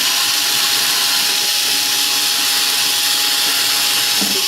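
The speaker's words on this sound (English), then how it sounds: "I'm going to go ahead and drill" A power drill bores a 1/8 inch through hole for a mounting screw in a rotor mast assembly, a steady broadband whir running continuously and close up, with no talking.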